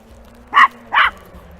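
A dog barks twice in quick succession in a quiet autumn forest park, two loud, close, sharp barks over a faint low background hum.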